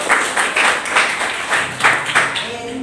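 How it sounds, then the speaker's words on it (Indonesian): A classroom group performs a rhythmic standing clapping routine during a history lesson, with bursts of claps in a steady patterned beat about twice a second and faint voices underneath. "Oh, itu tepuk berdiri ya."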